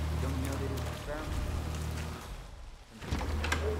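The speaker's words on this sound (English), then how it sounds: "Rain, rain, nothing but rain." Rain falls steadily in the Hitman video game, a soft continuous patter mixed with low game ambience while someone speaks over it.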